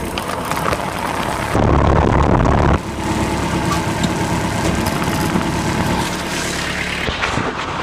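An old Farmall M tractor engine runs with a rough, steady low chug, close and loud, with a harsher burst in the middle and no one talking.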